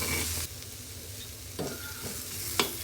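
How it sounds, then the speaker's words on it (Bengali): Vegetables stirred and frying in a pan while chickpea mash is prepared, a steady sizzle with a few sharp scrapes of the spoon against the pan, close and fairly quiet throughout. "এগুলোকে আবারও ভালো মতন ভেজে নেব।"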